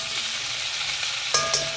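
Chicken fries in a pan for a honey mustard recipe, a constant close sizzle with a brief clatter of utensils near the end, no voices.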